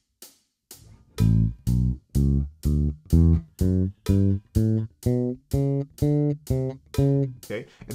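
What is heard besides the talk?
bass guitar finger exercise played at doubled rhythm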